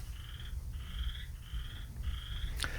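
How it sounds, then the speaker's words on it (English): A frog croaks outdoors after rain in four steady, evenly spaced trains of rapid pulses, moderately close over a low background rumble, with a sharp click near the end. "Hear the frog?"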